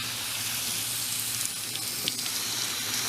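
Steady hiss of running water pouring over fava bean microgreens at an outdoor harvest and rinse table, a constant near spray with small splashy bursts and no voices.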